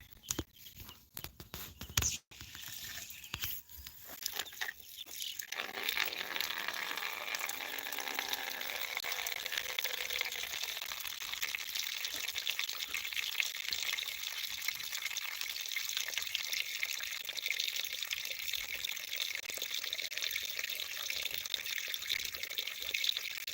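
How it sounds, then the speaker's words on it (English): Water being poured into a container, a steady hiss-like stream running continuously and fairly faint after a few clunks at the start. "let me put some water in here"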